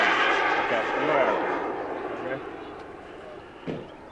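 A Hangar 9 Aermacchi MB-339 radio-controlled turbine jet model flies past with a hissing whine that swells and then fades into the distance.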